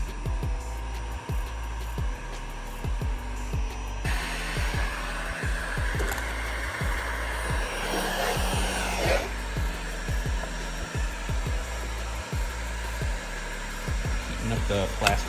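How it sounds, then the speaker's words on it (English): A heat gun blows steadily while warming a plastic vent to take an amplifier on a 2023 Harley audio install, a continuous close whooshing roar throughout with some faint clicks and handling noise. "Heating up the plastic right now, sliding the amp in to make its dent in the vent"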